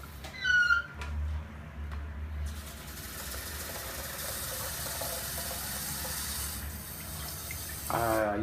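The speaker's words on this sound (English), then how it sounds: "then mix with tap water." Tap water runs into the green water tank of a K8 coffee machine, a steady rushing stream that continues for several seconds with a brief louder gurgle near the start and a sharper splash at the end.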